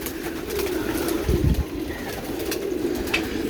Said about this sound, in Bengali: সবাই ঢুকে গেছে অনেক কবুতর ভিতরে